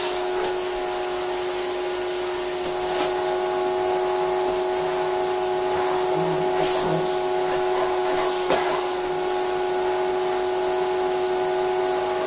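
Electrolux Slimline 185 vacuum cleaner runs at a steady, noisy whine with a constant tonal hum, a few faint bumps and clicks over the top and no talking.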